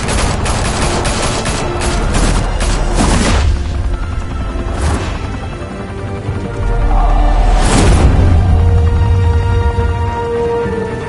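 Gunfire in Batman: The Telltale Series, a loud, close fusillade of rapid shots in the opening seconds followed by heavy booming impacts and further bursts, no voices over it.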